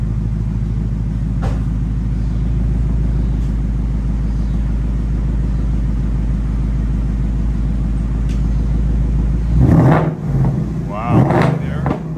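A Ford Mustang engine idling steadily up close, with a low throbbing rumble, then a couple of sharp throttle blips that flare loudly near the end.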